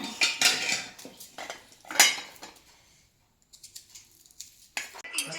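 Cutlery and dishes clinking during a home meal of chicken curry and bhakri, busy scraping and clattering of spoons on plates in bursts, with a short pause midway and people talking faintly nearby.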